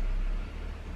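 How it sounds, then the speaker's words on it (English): A lorry idling close by outdoors gives a steady, loud low rumble and broadband engine noise that holds without a break, with no voices over it. "I'm just gonna try and talk over this lorry because it kind of looks like it's gonna be here for a little while"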